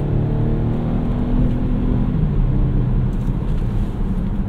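A 2019 Volvo S90 T5 Momentum in dynamic driving mode accelerates with a loud, close, steady engine drone and low rumble inside the cabin, with road noise underneath and no talk.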